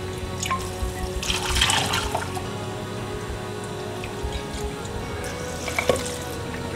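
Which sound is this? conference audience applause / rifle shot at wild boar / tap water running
tap water running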